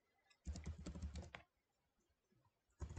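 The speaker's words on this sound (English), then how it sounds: "So if I type some text," Text being typed on a computer keyboard while formatting a Microsoft Word document, two close bursts of rapid key clicks separated by a quiet pause.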